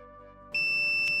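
A multimeter in continuity mode checks the connected pins of an alternator's midpoint and gives one sudden, sustained high electronic beep partway through, loud and steady against a faint hum before it.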